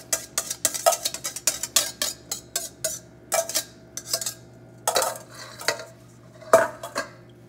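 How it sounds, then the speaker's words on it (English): Eggs whisked in a bowl for keto scrambled eggs, a quick run of sharp metal-on-bowl clinks and taps in uneven bursts, close and fairly clear, with no talking. "I'll whisk it some more right before I put it in."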